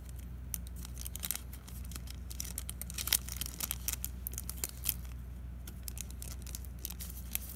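Scissors snip and rustle at plastic Lego packs being cut open, a string of small close-up clicks and crinkles over a low steady hum, with no talking.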